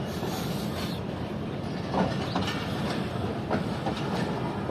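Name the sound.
Karakoram Express train running toward Lahore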